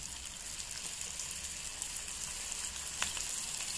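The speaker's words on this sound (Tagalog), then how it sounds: "So, 4 to 5 minutes lang ang pagpiprito ng isang shrimp ball." Shrimp balls deep-fry in very hot oil, giving a soft, steady sizzle with faint bubbling, close and fairly quiet.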